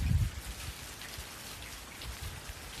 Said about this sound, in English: Mainly just raining.